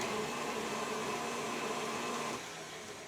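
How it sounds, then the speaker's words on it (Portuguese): An electric stand mixer runs steadily while beating cookie dough, a continuous close motor whir with a steady hum that dips slightly in pitch and level toward the end. "Precisa ligar a batedeira. Daí a gente mistura até ficar bem cremoso."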